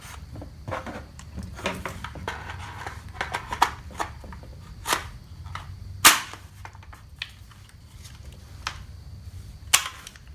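An empty Magpul PMAG Gen 2 magazine drops free from a 7.5-inch AR pistol fitted with a CAA MGrip2, giving sharp plastic-and-metal clacks and rattles. The clicks and knocks are scattered over about ten seconds, with one loud hit near the middle and no speech.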